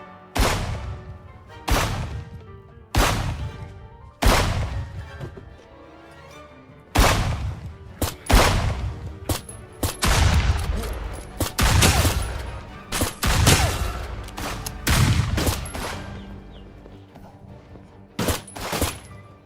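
Gunfire from bandits attacking in the survival game HumanitZ: loud, sharp shots spaced a second or two apart at first, then thickening into dense overlapping bursts and crashes.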